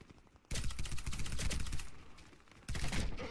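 Fully automatic fire from a Calico M951S sniper rifle in the video game Warface: a loud, close, rapid sustained burst, a brief lull, then another sharp burst near the end.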